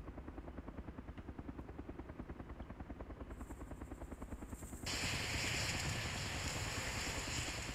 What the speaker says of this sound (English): Deploy gyrocopter.